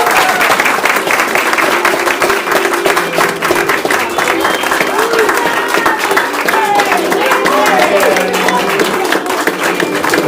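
Sustained round of audience applause at a community talent show, dense clapping from a crowd filling the room steadily for the whole stretch, with some voices and cheers mixed in.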